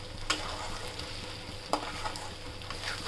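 Egg fries in oil toward brown with a steady, moderate sizzle, broken by two sharp clinks of a utensil against the pan.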